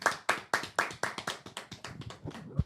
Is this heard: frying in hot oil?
no